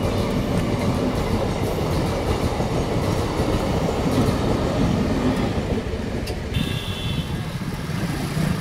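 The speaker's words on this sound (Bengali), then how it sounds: "আমার সামনেতে যে ট্রেনটা যাচ্ছে হাওড়া থেকে ব্যান্ডেলে যাচ্ছে" A Howrah to Bandel local train passes close by, its continuous rumble and clickety-clack of wheels on rails holding steady and loud throughout.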